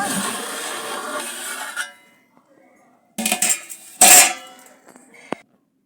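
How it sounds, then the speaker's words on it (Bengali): A chicken biryani pot, sealed and steamed for about fifty minutes on a tawa, has its lid lifted off with a couple of sharp metallic clanks and clinks between stretches of quiet, following a burst of steady hiss. "ঢাকাটা খুলছি"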